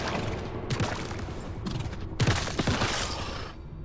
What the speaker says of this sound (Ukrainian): Стоп, він стріляє.